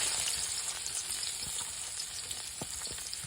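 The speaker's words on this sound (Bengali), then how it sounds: "প্রথমে পেঁয়াজ রসুনটা একটু ভাজতে লই" Onion and garlic frying in oil give a steady, dense sizzle throughout, with occasional small pops and clicks of stirring.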